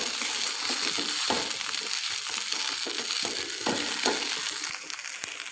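Onion poha seasoned with salt is stirred in a hot pan, a loud continuous crackling sizzle with rough scraping and crunching strokes of the spatula repeating throughout.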